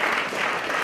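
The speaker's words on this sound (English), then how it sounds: "yes, applause is good" A brief burst of clapping comes from the audience at an arts grantee reception, a steady wash of applause filling the room for under a second.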